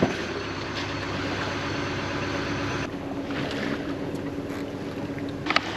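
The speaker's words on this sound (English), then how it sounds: "we've got the engine on at the moment" A sailboat motors under engine power in light wind out on open water toward the BVI, a steady low drone and hum with wind noise running throughout and a brief knock near the end.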